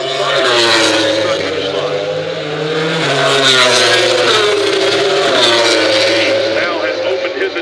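MotoGP bikes, including a Honda, accelerate out of turn 11 at Laguna Seca, a loud, sustained engine roar with rising and shifting pitch heard from the grandstands, overlaid by continuous commentary.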